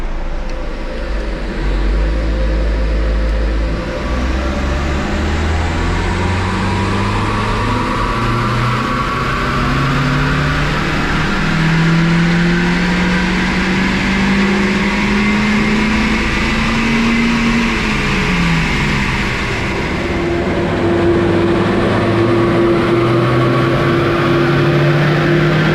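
A Mazda MX-5 engine on a power run holds a loud, steady drone whose pitch climbs smoothly through the revs for close to twenty seconds, drops back, then settles at a higher steady tone.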